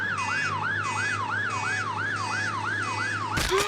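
Ambulance siren in the Gumball cartoon wailing in a fast, regular up-and-down rhythm over engine rumble, loud and close, ending in a sudden crash-like burst.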